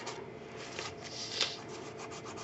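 A brush strokes clear gesso across an art journal page, giving a soft, steady scratchy rubbing with slight grit, close and continuous with one brief brighter scrape midway.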